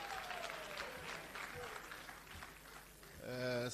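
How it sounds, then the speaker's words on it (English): Scattered clapping at a regional political party conference in Greater Johannesburg rises and fades beneath a loud, reverberant public-address voice, ending with a brief sung or chanted tone. "Let's give Comrade Mongwe another round of applause."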